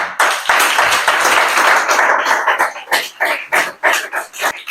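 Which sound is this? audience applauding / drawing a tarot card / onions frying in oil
audience applauding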